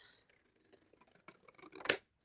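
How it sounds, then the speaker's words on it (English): Large scissors snip through paper while a junk journal is being made, a run of quiet close crisp cuts building to a louder final snip, then silence. "even with these big old scissors, thinking I could cut straight with them, I still can't cut straight"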